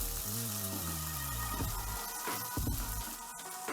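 Garlic fries in a hot pan for chicken in oyster sauce, giving a steady, loud, close sizzle that crackles on without a break over a few seconds.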